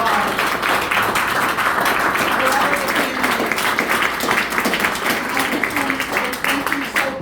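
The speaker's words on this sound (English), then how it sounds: "And let's give a big round of applause." A candidate forum crowd in Grangeville gives a loud, dense round of applause during closing statements, many hands clapping close by for several seconds with scattered voices mixed in.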